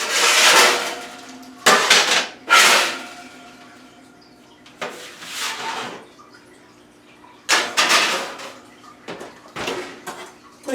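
Tray of orange slices slid back into an oven, a series of sharp metallic clanks and scrapes in short bursts with quiet pauses between, close and clear with no talking.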